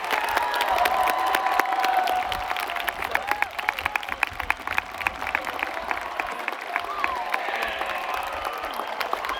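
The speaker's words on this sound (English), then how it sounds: "Please join me in applauding these students for this prestigious honor." A large graduation audience at Summit High School gives sustained applause for the honored graduating students, with dense clapping, scattered cheers and a few shouts running steadily throughout.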